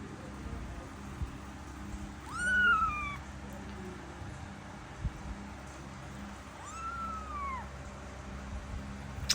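A kitten meows twice, a few seconds apart, with a rising-falling call each time, heard close up over a faint room background.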